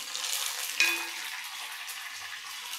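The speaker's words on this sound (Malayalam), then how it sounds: "ഈ തേങ്ങാക്കൊത്ത് ചെറിയൊരു ബ്രൗൺ നിറം ആവണം, അതുവരെ നമുക്കിത് മൂപ്പിച്ചെടുക്കണം" Coconut pieces fry in oil in a pan, giving a steady close sizzle with a brief sharp crackle near the start, as is done for Kerala beef fry.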